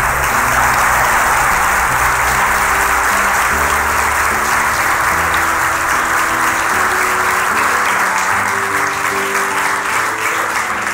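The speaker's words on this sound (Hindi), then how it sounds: "नैनवा के लोगों के लिए जोरदार तालियां" A church congregation bursts into loud, sustained applause, dense close clapping that holds steady for around eleven seconds.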